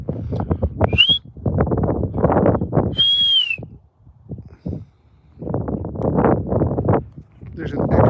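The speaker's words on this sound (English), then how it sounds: "I start whistling" A person whistles outdoors in snowy woods, two short rising-falling whistled notes that echo slightly, separated by stretches of talking; the whistles are clear and fairly close, with speech before, between and after them.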